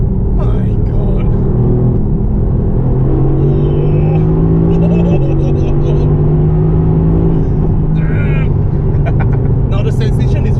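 A Mercedes-AMG GTC supercar engine drones and rises in pitch at full throttle, a loud steady rumble that climbs and holds, with someone talking over it throughout.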